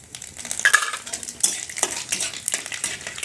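Dried chillies are added to hot mustard oil in a wok with bay leaves and spices, making a short burst of crackling sizzle with metallic spoon clinks and stirring, close up and without talk.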